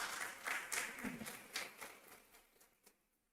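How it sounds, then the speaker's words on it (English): At a parliamentary Hansard AI and website launch, a fairly faint round of applause rises briefly and then thins out and fades within a few seconds. "For that, we deserve a round of applause."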